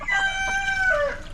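Boston Gold chickens at a feeder give a short, loud, close fowl call with a rising then falling tone, heard alone without talk.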